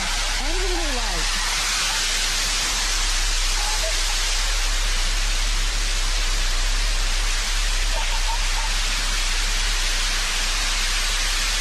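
A New Shepard rocket booster relights its engine during descent, giving a steady, loud, broadband roar that continues without break.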